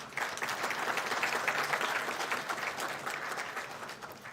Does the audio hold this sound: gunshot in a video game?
no